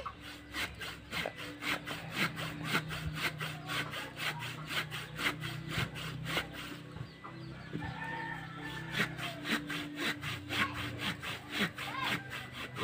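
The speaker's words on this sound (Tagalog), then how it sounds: "Yan, original yung lagari natin." An old hand saw with a worn, loosely turning handle cuts through wood in steady, repetitive back-and-forth strokes, fairly close and continuous, while roosters crow repeatedly in the background of a rural outdoor setting.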